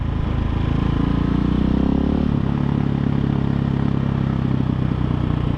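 A KTM 690 dual-sport motorcycle ridden on the road, its single-cylinder engine droning steadily and loud with a pitch dip as it shifts, buffeted by wind noise throughout.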